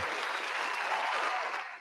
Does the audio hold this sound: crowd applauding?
yes